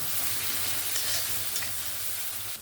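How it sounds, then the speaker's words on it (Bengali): Spices sautéing in hot oil in a pan for a tilapia and potato curry, a loud continuous sizzle with faint stirring scrapes, close up and without talk. "সমস্ত মশলাটা দিয়ে এবার আমি ভালো করে কষিয়ে নেব মশলাটা।"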